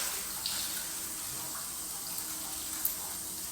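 Cold water runs from a bathroom tap in a steady, close hiss and splash, with a few faint clicks and no speech.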